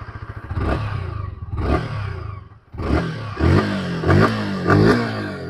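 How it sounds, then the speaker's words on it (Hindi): A 2023 Yamaha R15M V4 motorcycle exhaust revs up repeatedly, five loud throttle blips with a rough idle between them, recorded close by. "सुन लेते हैं इसका एग्जॉस्ट नोट भी।"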